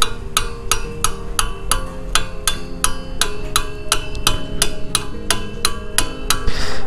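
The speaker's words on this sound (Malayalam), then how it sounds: "ഈ സംഭവം ഒന്ന് തട്ടി കയറ്റി കൊടുക്കാം കേട്ടോ" Steady, evenly spaced metallic hammer blows ring out loud and close as a new exhaust is tapped onto a Royal Enfield Bullet motorcycle, about a dozen strikes with resonant clangs and no talk.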